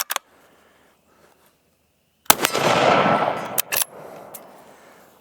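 A Ruger American rifle in 6.5 Creedmoor with an Ultradyne UD chassis, running thread protectors and no muzzle device. Sharp, loud outdoor reports are heard, one early and then a cluster with a long rolling echo between shots.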